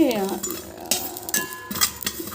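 Cumin seeds and ajwain roasting in a pan, with spoon scrapes, metallic clinks and knocks against the pan over a light sizzle, while a person talks in the background.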